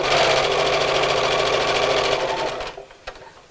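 A sewing machine stitching a fabric Christmas bag whirs at speed in a rapid, even stitching rhythm, close up, then slows and stops near the end with a couple of clicks.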